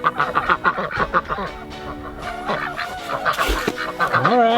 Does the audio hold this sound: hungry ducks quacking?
yes